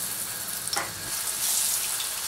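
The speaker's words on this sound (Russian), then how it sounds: "Обычно котлетки можно обжаривать или полностью на сковороде" Meat cutlets sizzle and crackle steadily in a hot frying pan, a continuous close frying hiss with a brief clatter near the start and no speech.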